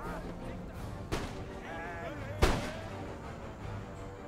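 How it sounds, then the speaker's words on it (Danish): Cannon fire in Empire: Total War, a Great Northern War battle with Sweden against Papal Swiss Guards: two sharp booming shots about a second apart, the second louder, over a low battlefield bed with someone talking. "Lad os skifte til normal kanonskud og skyde på dem der."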